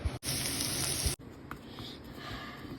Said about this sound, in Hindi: अब बस इसको तड़का मारने वाली हूँ मैं मिर्च और जीरा से